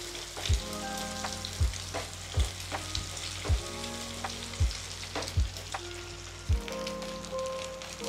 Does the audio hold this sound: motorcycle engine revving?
no